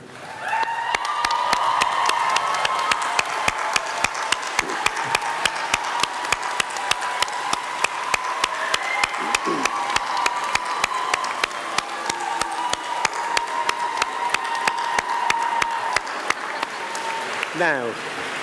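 Graduation ceremony audience for a school of film and media applauds and cheers, a long, loud, sustained wash of clapping with whoops and shouts running through it, plus a few sharp nearby claps.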